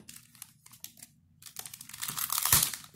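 Plastic Pokémon card blister packaging is crinkled and torn open by hand, a series of close crackling rips that grow louder and denser toward the end.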